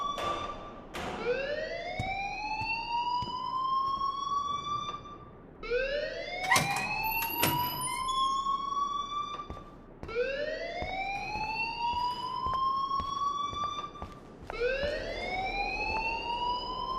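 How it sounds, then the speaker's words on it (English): An alarm in the video game Life is Strange blares in four long rising wails, each sweeping upward and holding steady before cutting off, loud and close with no talk over it. "please turn off that alarm since that's your job"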